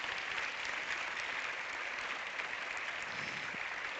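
At the LUX Audience Award 2025 ceremony, a room gives a steady, continuous round of applause, an even bed of clapping at moderate distance from start to finish.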